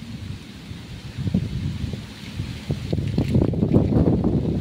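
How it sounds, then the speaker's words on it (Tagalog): Heavy rain pours outdoors while gusts of wind buffet the microphone, with low rumbling bursts that swell and fall over the steady downpour. "Malakas ang ulan na yan."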